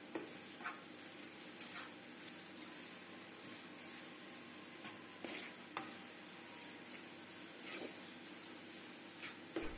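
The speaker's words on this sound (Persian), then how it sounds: "یه قاشق پر رو اضافه میکنم و تفتش میدم" Spices stirred into sausage and potatoes frying in a pan, a steady sizzle with occasional scraping stir clicks and taps throughout, close and moderately quiet with no talking.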